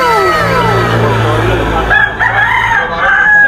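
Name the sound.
Thompson White rooster crowing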